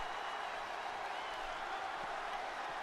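Lively crowd at a wrestling show keeps up a steady wash of applause and cheering from start to finish. It holds at an even, moderate level, with no single voice standing out.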